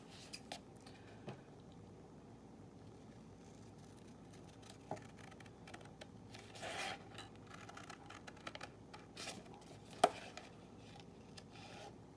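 Scissors cutting through paper for a Halloween junk journal, a quiet, close run of small snips and scratchy rustles spread over several seconds with no talking.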